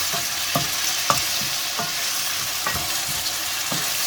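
Tomato puree stirred into sizzling chicken masala in a pan: steady frying hiss with regular scraping stir strokes about every half second, close and moderately loud, no voices.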